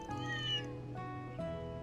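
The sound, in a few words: cat meowing in a video game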